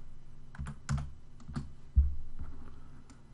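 Typing on a computer keyboard while entering a ring measurement into 3D modeling software, a handful of close, distinct key clicks in an uneven rhythm, with no talking.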